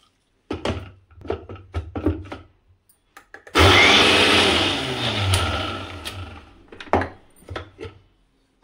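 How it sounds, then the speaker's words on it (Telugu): A kitchen mixer grinder blends coconut chutney for rava dosa, starting abruptly with a loud whirring burst that runs about three seconds, then cuts off, with softer clatter before and after. "మిక్సీకి వేసుకొనేస్తాం"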